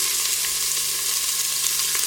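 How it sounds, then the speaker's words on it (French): Onions sizzling in olive oil inside a Cookeo multicooker, a steady dense crackle that holds evenly loud and close throughout, with no talking. "je rajoute mon filet d'huile d'olive ainsi que mes oignons que j'ai coupés avant"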